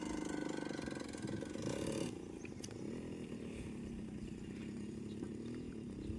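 An Activa scooter engine runs nearby on a rural ride toward the hills and farm fields, holding a steady buzzing drone that drops slightly in pitch and loudness partway through. No talking can be heard.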